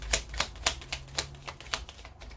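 Tarot cards being shuffled and drawn by hand, a run of soft, sharp flicks and slaps repeating roughly every half second, close and fairly quiet.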